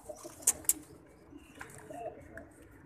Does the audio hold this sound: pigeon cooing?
yes